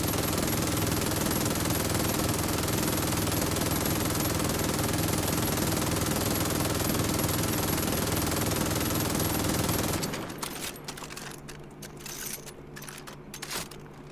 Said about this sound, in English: Now here's fully automatic on an MG42, Far Cry 5 version.